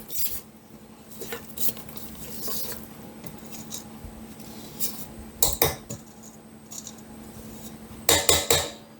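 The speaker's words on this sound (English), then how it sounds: "I'll just scrape it down and make sure it's getting mixed from the bottom." A utensil scrapes and clinks around a mixing bowl of raspberry bun batter in a home kitchen, with scattered taps and a few quick knocks near the end, fairly close and unaccompanied by talk.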